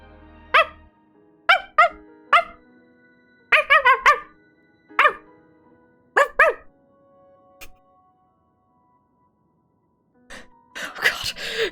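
A person imitates a dog barking, giving a series of short, loud woofs in quick bursts with silent gaps between them, followed by a gasp and brief noisy sounds at the end.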